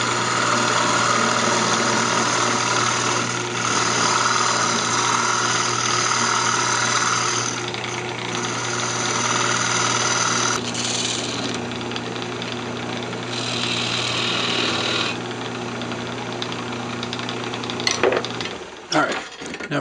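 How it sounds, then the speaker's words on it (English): A small scraper cuts a redwood Christmas ornament spinning on a wood lathe, with a continuous motor drone and shifting bursts of brighter scraping. Near the end it cuts off into a few clunks. "that's just another small scraper. I'm going to try and go around the corner a little bit with it"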